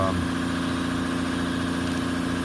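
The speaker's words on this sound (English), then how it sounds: "There goes my compressor. running again." Air compressor in a home aircraft-build workshop running steadily, a continuous droning engine-like hum with low vibration that stays constant and fairly loud throughout, with no talking.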